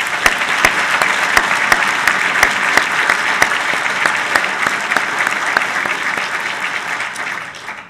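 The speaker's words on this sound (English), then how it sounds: "Let's give him another round of applause." Audience clapping at an evening naval history event at the Naval War College, steady and loud, with sharp individual claps standing out, fading at the end.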